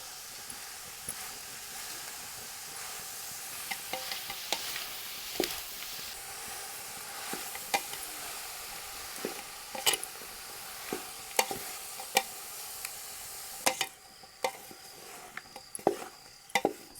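Grated jaggery melts over low heat in a pot as it is stirred, with a faint continuous sizzle and scattered sharp scraping clicks from the spoon against the pot, growing busier toward the end. No one speaks.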